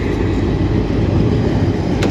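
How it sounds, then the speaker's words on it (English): Train passing by near a parked car, a loud, dense, continuous rumbling roar filling the whole short stretch with no pauses. "Sorry, there's a train going by, that's why it's so noisy."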